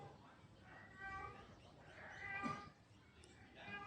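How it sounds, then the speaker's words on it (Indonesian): A cat meows faintly in the background outdoors on an overcast day, several short tonal cries spread across a few seconds amid quiet ambient noise. "ada suara kucing juga tapi nggak tahu kedengeran jelas atau enggak"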